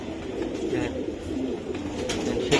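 Racing pigeons in a loft give soft, low cooing close by, a brief murmuring burble over a quiet background.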